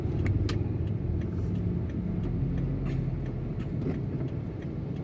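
A car driving on a busy road and making a left turn, with a steady low engine and road rumble close by and faint passing traffic sounds.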